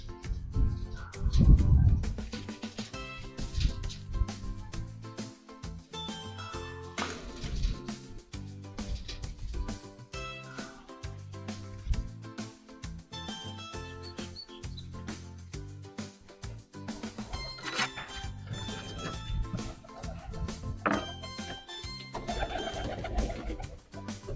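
Pet pigeons in a coop coo in low, repeated throaty phrases close to the listener, mixed with background music and a few scuffling sounds throughout.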